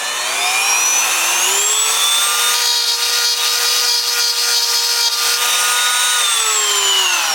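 High-pitched rotary grinding whine of a carbide bit cutting metal on a part from a rare Briggs NR6 engine under restoration, steady and loud at close range, with the pitch dipping slightly under load and no talk.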